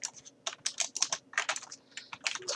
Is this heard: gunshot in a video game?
no